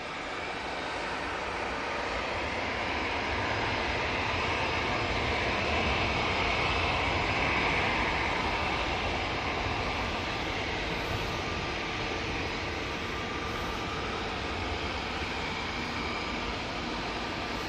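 An Airbus A321neo airliner on final approach to land at Manchester Airport, a steady, broad jet engine roar that swells gently toward the middle and then holds at a moderate level, with no voices.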